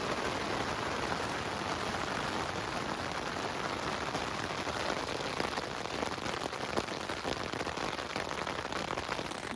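Heavy rain, with hail falling just before, pounds a tent pitched in the mountains of Kyrgyzstan, a dense, steady hiss close overhead that holds at an even loudness throughout with no one talking.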